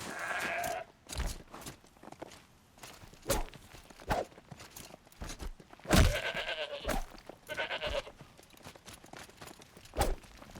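Goats bleat in Horizon Zero Dawn, several short wavering calls scattered among footsteps and thuds, fairly close with quiet gaps between them.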